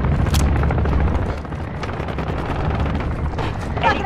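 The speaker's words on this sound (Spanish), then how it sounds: "Helicóptero de carga en el espacio aéreo." Cargo helicopter in the Call of Duty MW2 video game, a steady loud rotor and engine drone with busy mechanical clatter and a few sharp bursts over it, dense and continuous throughout.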